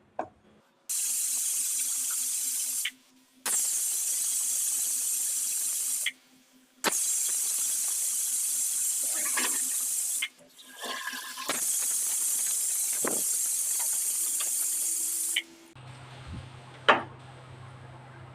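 Pressure cooker whistling on the stove while palak dal cooks, long steady hissing bursts that stop and restart several times, followed by quieter kitchen clatter near the end.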